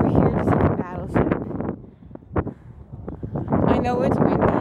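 Wind gusts rumble against the microphone at an outdoor battleship visit, loud buffeting bursts that come and go while someone talks over them.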